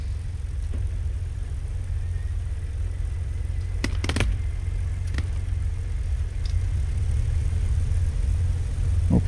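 The port propeller engine of a World War II-era aircraft idles just after start-up in the DCS flight simulator, a steady low rumbling drone with a few faint clicks partway through and no voices.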